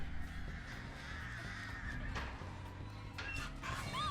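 A crow caws in the horror video game Dead by Daylight, a couple of short harsh calls over a low, steady game ambience with faint rumbling and no talking.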